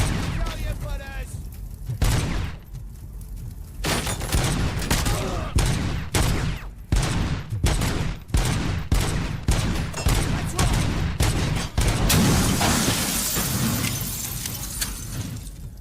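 Heavy gunfire in RoboCop: Rogue City, a dense sequence of loud repeated shots and bursts with glass shattering, continuing across the whole stretch with brief lulls between volleys.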